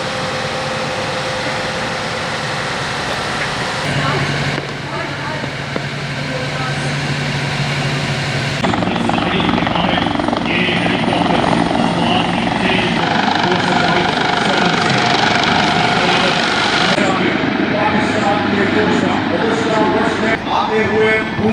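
Military helicopters fly past during the Pakistan Day armed forces joint parade, a loud, continuous rotor thrum and engine roar that swells as they pass close overhead.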